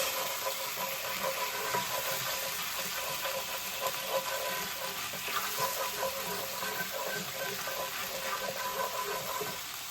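Pork tenderloin and Brussels sprouts sizzle steadily in a hot pan at home while being stirred, a dense continuous frying hiss with faint scraping and clinks throughout.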